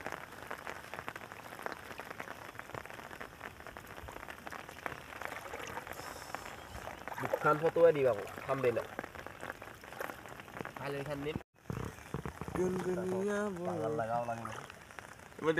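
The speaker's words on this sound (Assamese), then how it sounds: "কিনকিনীয়া বৰষুণ দি আছে" A fine drizzle hisses softly and continuously in the background at a riverside while people talk over it, with a brief dropout near the end.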